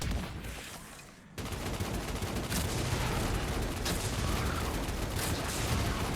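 Gallows LMG in Destiny Rising firing a long continuous stream of dense rapid shots, loud and unbroken after a short quieter lead-in.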